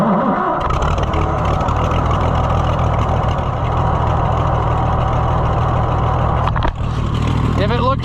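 A scrapyard Oliver Super 77 tractor engine runs with its choke tied back, a steady loud low rumble throughout, with voices talking over it.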